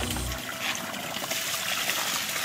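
Water gushing from a hose on a pump drawing from a river, a strong continuous rushing flow heard up close throughout.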